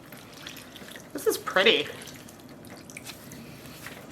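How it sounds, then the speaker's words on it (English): Water poured into a dye pot while yarn is being dyed, a brief close splashing pour of about half a second against quiet room tone, with a person speaking briefly around it. "I'm going to pour the rest of this water that we mixed in here right now"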